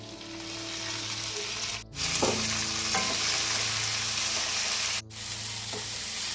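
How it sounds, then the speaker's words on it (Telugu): Green chillies frying in hot oil for a carrot and coriander chutney, giving a steady, close sizzle broken by two brief dips and a few light stirring scrapes. "పచ్చిమిరపకాయలు కూడా వేగిపోయినాయండి"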